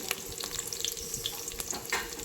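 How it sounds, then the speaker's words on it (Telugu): Onion and green chillies fry in hot oil for a soya chunk pulao, a continuous close sizzle broken by scraping stirs and small spattering pops, with no talking. "ఇప్పుడు ఈ ఉల్లిగడ్డ పచ్చిమిర్చి వేసాం కదా, దీన్ని మంచిగా కలుపుకొని ఈ ఆయిల్లో మంచిగా ఫ్రై అయ్యేలాగా"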